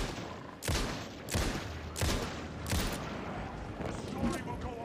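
Gunfire in the Alan Wake II video game: four loud, evenly spaced shots about two-thirds of a second apart, followed by a softer fifth shot, over a steady background hiss.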